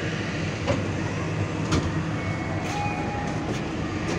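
A Pasundan passenger train runs along the line, a steady low rumble heard from inside the carriage with faint rhythmic clicks of the wheels and a few brief metallic clanks.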